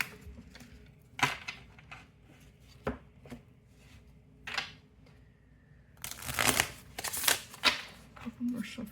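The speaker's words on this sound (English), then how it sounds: "Couple more shuffles." Tarot cards being shuffled by hand in several bursts of riffling and slapping, sparse taps early and a dense flurry of shuffling near the end, close and clear with a voice talking softly between.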